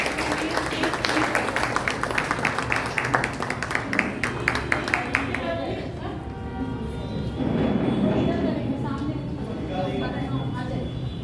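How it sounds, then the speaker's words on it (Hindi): Children's dance performance at a Junior Arya Samaj kids programme in Bangalore ends with sustained audience clapping, loud at first then thinning out, with voices talking and murmuring beneath it. "जोरदार तालियां"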